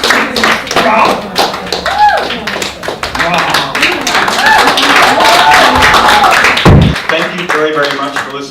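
An audience at a wellness talk in Melbourne claps along, loud rhythmic claps mixed with crowd noise and voices, steady for several seconds before a brief low thump and a fading tail.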